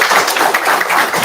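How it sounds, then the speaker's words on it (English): An audience applauds students receiving their diplomas at a school board meeting, a loud, dense, continuous wash of clapping from many hands throughout. "let's give those students a big round of applause"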